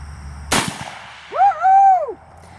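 A single sharp, loud crack from a .30-30 Winchester rifle firing at an empty 12 gauge shotgun shell on a range, with a brief echoing decay, followed about a second later by a rising-and-falling vocal whoop.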